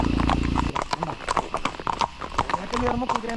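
Horse hooves clip-clop along a plantation trail during a horseback ride, a brisk, uneven series of close hoof strikes, while a person talks over them throughout.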